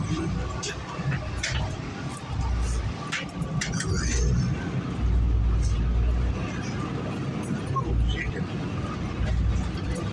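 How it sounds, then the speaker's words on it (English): A moving bus gives a steady low engine rumble and road noise from inside the cabin, rising and falling slightly, with voices talking over it. "Bus moving."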